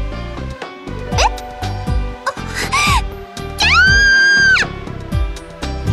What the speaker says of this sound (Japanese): 魔物に襲われた時より大きな悲鳴だったな